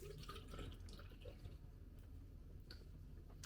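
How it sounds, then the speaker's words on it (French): Tap water runs into a sink while a face is rinsed, a quiet steady gurgle with faint splashes and drips, heard close but at low volume. "je rince"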